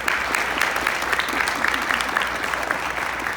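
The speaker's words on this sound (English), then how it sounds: "everybody give yourself a round of applause." An audience applauds steadily at a talk at Community Academy of Philadelphia, with dense, fairly loud clapping that holds at an even level throughout.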